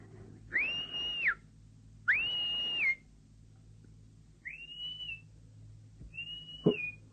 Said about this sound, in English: Who's that whistling?